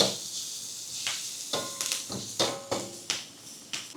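Onions and green chilies sautéing in a pan, a soft sizzle broken by repeated scraping and clinking stirs at an uneven rhythm, close and fairly quiet, with no talk.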